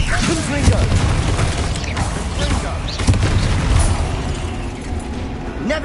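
Hogwarts Legacy game combat with the Confringo fire spell: a steady roar of blasts, bursts and mechanical clatter fills the whole stretch, with a few sharper booming pops near the start and middle, loud and continuous over a dense game soundscape.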